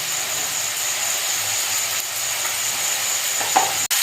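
Chicken pieces frying in a pan with salt and turmeric, stirred steadily in a village kitchen; a soft, continuous sizzle with faint scraping near the end, no talking.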